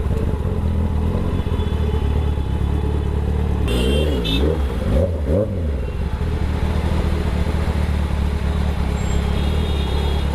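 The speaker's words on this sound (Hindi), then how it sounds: "बहुत ट्रैफिक है यार।" Heavy road traffic in Mumbai near a toll point: a constant loud drone of motorcycle and car engines, with a nearby vehicle revving up and down in the middle.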